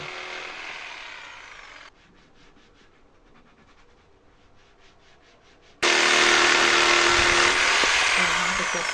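A woman cuts wooden boards for a tabletop with a power saw; a loud broadband cutting burst opens, a quieter stretch with rapid rhythmic buzzing follows, then a louder sustained cut runs to the end.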